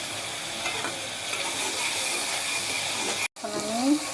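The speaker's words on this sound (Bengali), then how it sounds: "এখন আমি সিদ্ধ করা আলু ভেজে রাখছি, সেগুলো দিয়ে দিলাম" Boiled potatoes frying with spices such as turmeric, coriander and garam masala in a pan, a loud continuous sizzle with stirring scrapes, a brief dropout near the end, then faint clatter.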